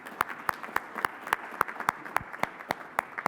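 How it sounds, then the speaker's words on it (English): Sparse, evenly spaced handclaps from a small conference audience at a digital quality summit, moderately faint, with roughly ten sharp claps in a steady rhythm and no talking. "A round of applause for all the attendees who stuck it out to the end of the conference"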